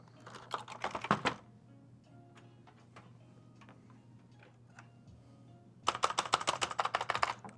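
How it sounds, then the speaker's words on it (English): Close-up typing on a computer keyboard on a PC test bench comes in two fast bursts of clattering keystrokes, with a few scattered clicks in the quieter stretch between them. "it is a working keyboard"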